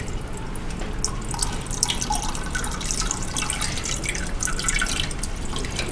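Water drips steadily from a volumetric measuring vessel tilted to 60 degrees during the drip-time step of a calibration check, a soft continuous patter of fine drops with no voices.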